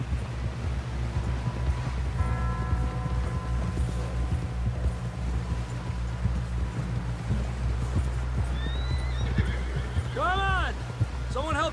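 A horse neighs in Red Dead Redemption 2, with whinnying calls rising near the end over steady hoofbeats and a constant low rumble of ambient game sound, all close and fairly loud.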